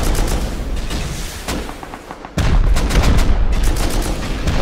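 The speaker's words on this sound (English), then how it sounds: "Just keep shooting." Dense gunfire in the survival game Rust, a steady crackle of overlapping shots with heavier booms at close range, briefly thinning before a loud fresh burst.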